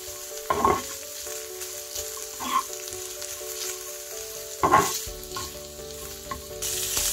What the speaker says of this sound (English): we're going to fry them up until they become crispy